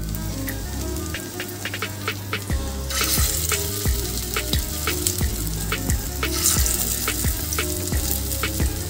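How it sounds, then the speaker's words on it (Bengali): Poppy seed fritters fry in hot oil over low heat, giving a constant sizzle with crackles and spatters. A loud hiss bursts out as fresh batter drops into the pan. "চারটে করে আমি ভেজে নেব, একসাথে বেশি দেব না।"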